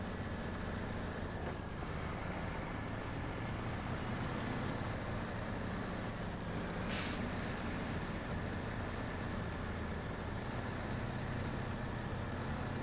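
A heavy truck engine in the SnowRunner video game labours steadily under load, struggling for grip on Michigan terrain with a popped tyre, a constant loud drone with rumbling low end and a brief hissing burst partway through.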